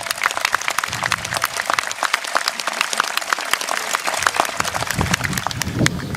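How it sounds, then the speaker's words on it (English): Audience applauding at a 2014 spring university commencement ceremony at Southeastern Oklahoma State University, dense sustained clapping from a large crowd across the whole clip, loud and even. "Let's give all of them a big round of applause."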